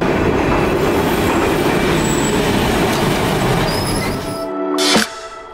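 A tram rolls through Milan with loud, continuous rail rumble and wheel noise, faint squeals riding on top, then a sudden drop near the end as a sharp screech or clatter passes.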